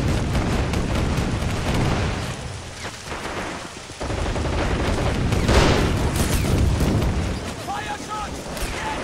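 Sustained gunfire and booming explosions fill a video game battle, with dense bursts and blasts running continuously throughout, and voices barking orders over the din.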